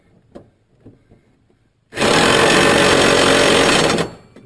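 Mower blade bolt tightened with a power impact tool: a few faint taps, then a loud, close burst of rattling hammering lasting about two seconds before it stops.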